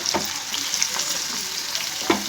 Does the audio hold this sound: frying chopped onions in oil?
yes